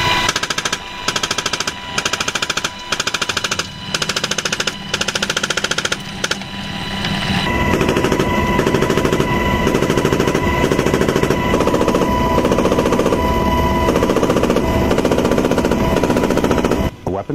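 A door-mounted machine gun fires from a UH-60 Black Hawk helicopter during army training, first in several short loud bursts, then in a long sustained stream of rapid shots over engine and rotor noise.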